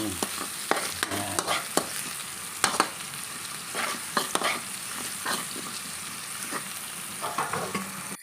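Garlic, onion, pepper and salt are stirred in a frying pan before beef is added. The oil sizzles steadily throughout, with repeated scraping strokes of the spatula close by.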